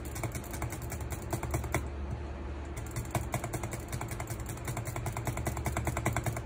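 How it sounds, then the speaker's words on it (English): Rapid butterfly clicking on a Logitech G402 gaming mouse, a dense, fast stream of sharp plastic clicks close to the microphone, with a short pause before the clicking resumes, over a low background hum. "I try to butterfly click with this stupid thing."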